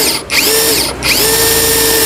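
A Dekton Gen3 Pro cordless screwdriver drills at high speed, a loud, close whine that dips briefly twice and then runs steady, with no talking.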